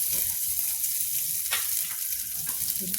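Handful of onion sizzling in hot oil with cumin in a pan over high gas, a dense steady crackle with occasional sharper pops and stirring scrapes, close and without talk.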